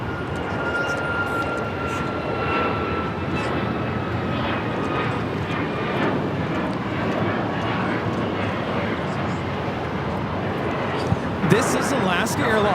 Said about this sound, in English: This is Alaska Airlines 1348 taking off to Puerto Vallarta on the 737 MAX 9.